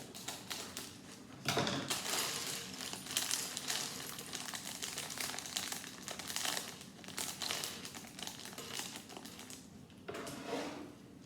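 A small plastic bag of pieces from Lego Trolls World Tour set 41252, Poppy's Hot Air Balloon, is torn and opened up close, with loud, irregular crinkling and rustling bursts that continue throughout, with no talking.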